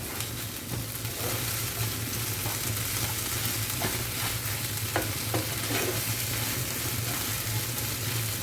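Chopped coriander being stirred into a pan of fried Bombay duck (lote fish): continuous sizzling with a low steady hum beneath and intermittent scraping and clinking of a spatula against the pan, no talk.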